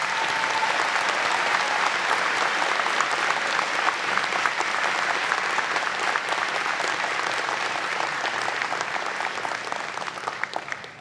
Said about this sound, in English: Please join me in a round of applause for our graduates.